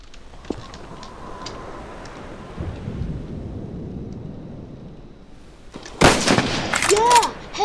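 Gunfire in Garry's Mod, a sharp loud burst of shots near the end after a stretch of low rumbling background, with a faint single crack early on.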